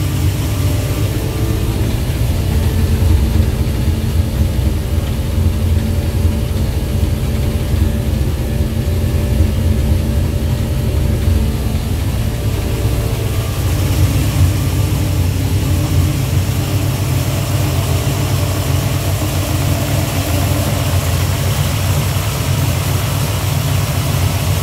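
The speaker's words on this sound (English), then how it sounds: "Just sounds a lot deeper, and the camshaft is slightly different." A car engine with a modified camshaft idles with a deep, steady low rumble, loud and close, running continuously without talk.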